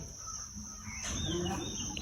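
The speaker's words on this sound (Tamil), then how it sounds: "காகம்" Crows calling in a Jaffna morning setting, a rough caw rising over steady background hiss and ambience, moderately distant and without talk.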